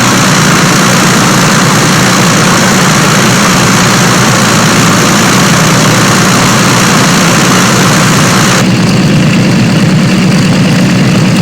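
A Douglas DC-3's engines idle during taxiing in a flight simulator game, a loud, steady droning propeller rumble that holds level throughout, with the upper hiss dropping away near the end.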